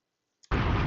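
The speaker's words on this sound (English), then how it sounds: "Drop a bomb for the beat being fire." A sudden booming explosion sound effect, like a bomb going off, bursts in after a short silence and a small pop, then sustains loud and broad until the end.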